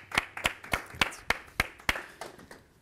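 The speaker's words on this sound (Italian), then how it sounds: "Facciamo un applauso" Sparse, evenly spaced claps, around nine sharp hits in quick rhythm, sound quietly at a youth gathering, as if only a few people are clapping.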